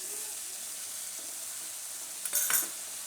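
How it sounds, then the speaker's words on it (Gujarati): Masala cooking in oil for papad kadhi makes a steady, quiet sizzle, and a short burst of stirring and scraping comes near the end. "તેલમાં થોડીક વાર ફેરવવાનું આ રીતે આપણે, અને મસાલો એકદમ સરસ પાકી જાય."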